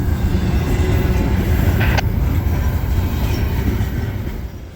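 A train rolls along the rail line at a steady 40 miles per hour, a loud, continuous, close rumble of wheels on track with a brief high squeal partway through.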